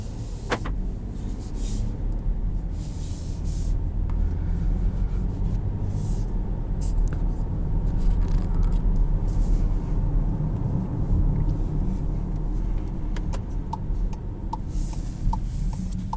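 Cabin road noise inside a moving 2021 Volkswagen Atlas SE R-Line, a steady low rumble and tire hum with faint ticking clicks near the end, continuous and with no one speaking.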